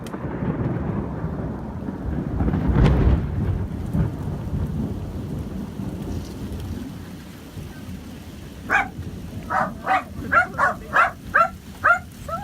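Heavy rain pours steadily with a rumble of thunder building early, then fading; near the end a dog barks in a quick series of short, close barks over the rain.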